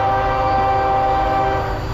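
A CSX manifest freight train rolling through on the Conrail Lehigh Line in Piscataway, New Jersey, a loud, dense, steady rumble with sustained horn-like tones, close and unbroken throughout.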